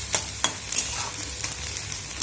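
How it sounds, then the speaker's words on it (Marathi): Bombil (Bombay duck) fish and onions frying in a pan for a chutney, a steady close sizzle with a few sharper crackles and stirring scrapes, no voices. "छानपैकी तळत आहे."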